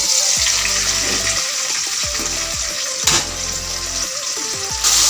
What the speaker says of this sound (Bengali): এখন আমি চিংড়ি মাছ ভেজে নিব।